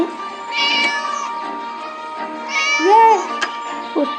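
A cat in the video game Scary Teacher 3D lets out two drawn-out meows, loud and clear, with a shorter mew near the end over a steady background game soundtrack.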